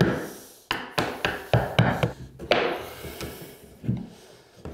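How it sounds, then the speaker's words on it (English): A hammer pries at an OSB floor board, a series of sharp wooden knocks and creaks coming in an uneven rhythm at close range, each followed by a brief scrape or rub. "If you have a second hammer, you could use that as a pry bar."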